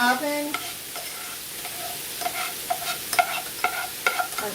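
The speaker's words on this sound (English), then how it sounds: "you're going to stir in the rice" Rice is stirred into a cast iron skillet with ground beef, a soft sizzle under a series of repeated scraping strokes and light taps of the spoon against the pan.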